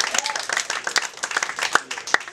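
An audience at an open mic comedy show claps steadily, dense overlapping handclaps filling the room with a loud, continuous burst of applause.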